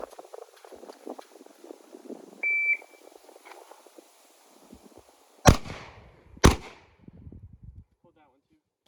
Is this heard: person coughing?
no